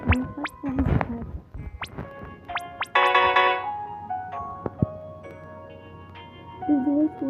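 A phone ringtone goes off in the Steal a Brainrot video game, a bright melodic jingle of stacked tones rising over game effects and clicks, with a voice talking near the start and end.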